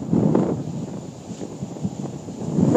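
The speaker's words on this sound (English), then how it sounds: "It's really windy." Strong gale wind buffets the microphone at a lakeshore in the Niagara area, a continuous roaring rush that surges and eases with no voices.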